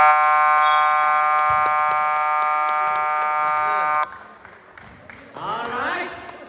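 End buzzer at a basketball game, a third-place match, blares loud and unbroken for about four seconds, then gives way to crowd noise and voices.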